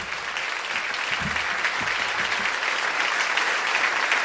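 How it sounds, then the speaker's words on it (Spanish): Audience at a national history award and world poetry festival applauding the ambassadors, a steady sustained roll of clapping from a sizeable crowd, moderately loud throughout the short stretch. "Un aplauso para los embajadores."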